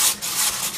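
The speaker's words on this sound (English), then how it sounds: "And then I will sandpaper all of these areas" Sandpaper of 400 grit rubbed across a car's front grille, a close steady hissing scrape with rhythmic back-and-forth strokes, alone without talk.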